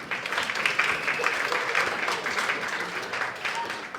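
A comedy club audience applauding steadily for a few seconds, a dense wash of clapping at moderate volume.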